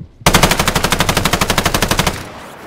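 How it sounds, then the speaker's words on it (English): Sustained automatic gunfire in Call of Duty: Modern Warfare, one loud, close burst of rapid evenly spaced shots lasting about two seconds before cutting off into a fading tail. "Somebody shooting me."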